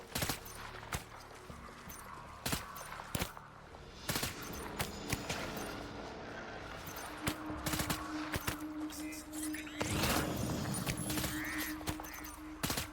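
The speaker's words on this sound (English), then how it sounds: "I can keep shooting at them from cover" Bursts of gunfire in the game Death Stranding, sharp separate shots and short volleys fired from cover, scattered across the stretch at moderate volume, with low background game sounds.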